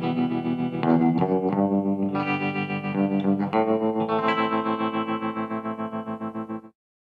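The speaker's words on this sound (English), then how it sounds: "Here's a tremolo effect." Electric guitar playing through an Eventide ModFactor pedal's tremolo effect, a sequence of sustained chords pulsing in steady, even volume throbs for about seven seconds, loud and alone.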